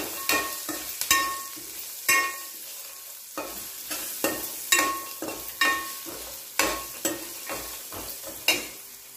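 Turmeric being stirred into mint rice in a pan, a spoon scraping and clinking against the metal in irregular bursts with a light sizzle underneath, close and fairly loud.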